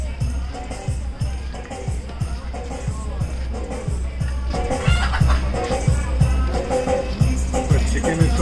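Chickens cluck near a seaside tea shack in Tajpur, amid a busy crowd murmur, with repeated short low thumps in a steady rhythm running throughout.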